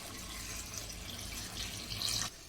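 Water pours in a steady, soft stream into a pot of dal with vegetables for sambhar, a faint close splashing that brightens briefly near the end before stopping.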